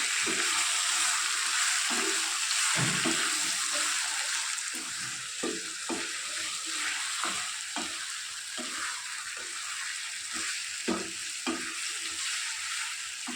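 Marinated chicken frying in tempering in a pan, stirred with a spoon: a continuous loud sizzle broken by repeated scraping and stirring strokes at an irregular pace, with no talking.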